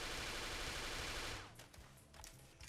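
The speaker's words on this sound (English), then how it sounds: "She has these 2 submachine guns that fire like crazy." Twin submachine guns in the Bullet Girls 2 video game fire in a dense, continuous rattle for over a second, then break into shorter crackling bursts and scattered game effects.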